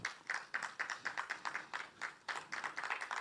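Sparse applause from a conference audience greeting a keynote speaker at a summit, a few hands clapping in an uneven rhythm at moderate distance, with no voices over it.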